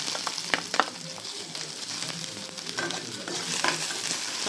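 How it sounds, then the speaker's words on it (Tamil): Chopped onion frying in oil in a kadai with mustard seeds and urad dal, a steady close sizzle broken by sharp crackles and the scrape of a stirring spoon, no voices. "ஒரு வெங்காயம் நறுக்கி வச்சுருக்கேன், அதை போடுறேன்"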